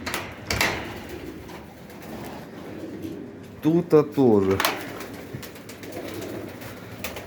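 Pigeons coo in a dovecote where young squabs have hatched, soft low calls under someone speaking, with a brief clatter and a burst of wing flutter partway through.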